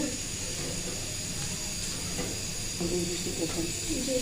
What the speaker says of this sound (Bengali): আলু সব ভাজতেছি এখানে আলু সব দিয়েছি